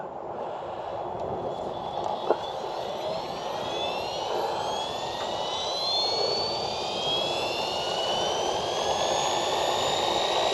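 A Fly Wing 450L V2 RC helicopter spools up its rotor, with a steady whine rising in pitch over about ten seconds, close by and alone with no talk.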